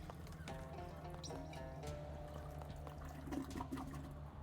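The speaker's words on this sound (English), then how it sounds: "Oh wait, I can flush this now." A toilet flushes in the Shadows of Loathing video game, with a faint gurgle and rush of water and a trickle that settles over a low background hum and soft music.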